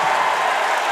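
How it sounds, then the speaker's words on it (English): A cage-fight crowd of fans roars and cheers continuously in a packed arena, a dense, steady wash of voices and applause that holds at a constant level for under a second. "This crowd is loving it."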